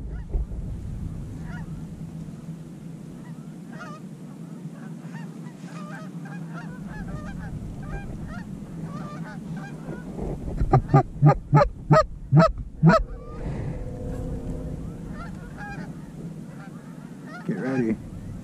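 Canada geese honk repeatedly in a goose-hunting setting on a New York hilltop, a loud rhythmic burst of calls building mid-clip over a continuous low background of more distant honking.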